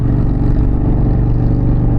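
Steady, close, loud rumble of an Indian Challenger motorcycle exhaust while riding in Pennsylvania, a continuous deep engine drone with no break.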